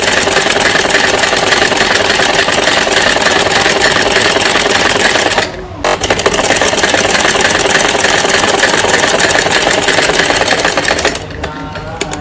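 A sewing machine stitching a child's night suit, running loud and close with a fast steady mechanical whir, briefly stopping partway through and again near the end.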